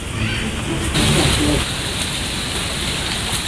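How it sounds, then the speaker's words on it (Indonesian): Light drizzling rain falls steadily as a soft, even hiss throughout, with faint low voices or movement underneath in the first half. "Mana cuaca gerimis begini, hujan baik."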